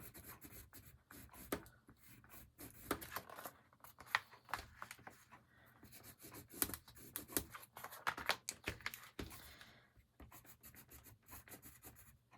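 A pen or marker scratches out a fold line on craft paper for an explosion box, with quiet repeated short strokes and rubbing that come in uneven bursts, close and soft, and no voices.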